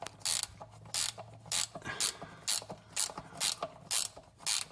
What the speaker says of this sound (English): Nice to have these ratcheting wrenches